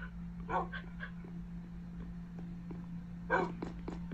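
Dogs in the Minecraft video game give a few short yips and whimpers in two brief bursts, moderately near, over a steady low game hum with no talk.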